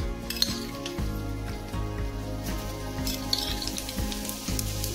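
Mustard seeds and cumin sizzle in hot oil for Maharashtrian poha chiwda, a close steady fry with repeated spoon clinks against the pan.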